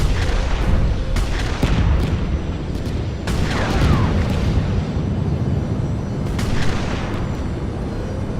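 Rapid missile and grenade launcher blasts from a mecha knights raid video game, a dense, continuous barrage of booms and sharp cracks layered over a rumbling low roar throughout.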